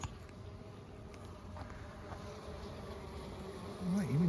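Honeybees hum in a steady, soft drone from an opened hive during an inspection. Fainter individual buzzes rise near the end.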